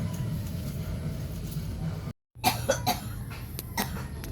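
An elderly blind woman, a grandmother left alone, coughs several times in close succession after a brief cut, nearby, with low background noise.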